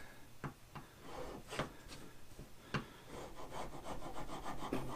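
Excess wood glue being scraped off a wooden miter saw station piece around a T-track, a series of short rasping strokes at uneven intervals, close and fairly quiet.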